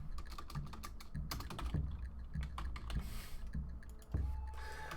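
Fast, steady typing on a failing computer keyboard, dense clacking keystrokes in quick bursts with brief pauses, close and continuous with no voices.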